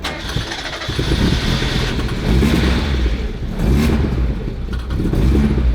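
A 30-year-old car, unstarted for a year, cranks and catches, then settles into a loud, rough idle with repeated revs rising and falling over several seconds.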